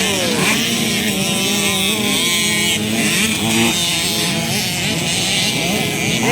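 Several 50cc motorcycles race in a class final, their small engines droning and revving loudly together in a dense, continuous high-pitched whine with shifting pitches, joined by a low rumble from nearby.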